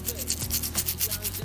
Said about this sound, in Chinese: 我们需要把它从上到下仔细的刷洗一遍